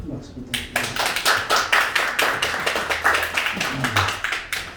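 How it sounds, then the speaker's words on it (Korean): Applause from a concert audience, a brisk run of claps at close range lasting several seconds, with some talking mixed in. "큰 박수 부탁드립니다"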